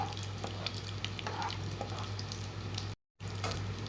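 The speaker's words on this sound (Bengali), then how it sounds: "এবার গোটা গরম মশলা আর শুকনো লঙ্কাগুলো দিয়ে দেবো দিয়ে একটু হালকা করে ভেজে নেব" Whole garam masala and dried chilies frying in mustard oil give a close, steady sizzle with a few stirring scrapes and a steady low hum beneath.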